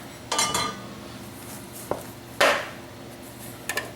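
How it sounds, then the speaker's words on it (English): A metal bread loaf pan tapped on a kitchen bench, a few separate clanking knocks spread out with short quiet gaps between them, close and moderately loud. "just tap it on the bench"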